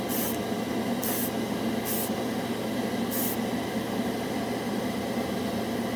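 Mr. Color Super Metallic paint sprays from an airbrush in four short hissing bursts, each about a third of a second, over a steady hum of background noise.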